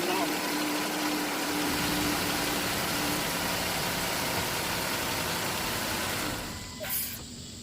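A Jeep Grand Cherokee engine idles just after a thermostat replacement, a steady close-up mechanical hum that holds evenly before dropping away near the end.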